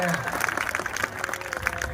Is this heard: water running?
no